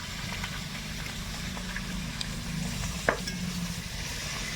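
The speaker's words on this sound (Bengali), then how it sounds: "ওইদিকে মা মাছের মাথা ভাজছে" A rohu fish head frying in oil, giving a steady close sizzle with a brief clatter of a utensil near the middle.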